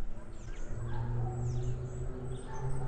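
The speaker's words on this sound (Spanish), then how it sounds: "escuchar el ruido de los pajaritos" Faint, scattered chirps from small birds in a forest near the El Cedral dam over a steady low hum, with no voices.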